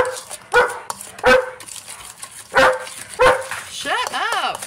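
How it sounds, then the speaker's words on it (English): A standard poodle barks repeatedly, loud and close, in a home kitchen, in sharp bursts with a few higher yips near the end, and someone talks around the barks. "That is our standard poodle, Rogue."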